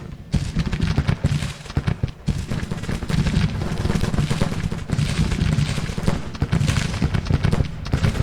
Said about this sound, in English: Yeah, these are breech-loaded carbines